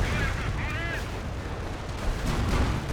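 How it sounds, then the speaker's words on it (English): Rocket artillery barrage in the Company of Heroes 1 strategy game: a steady dense rumble of launches and impacts runs throughout, with a brief whistling streak near the start and heavier low booms toward the end. "Five rocket barraging up here."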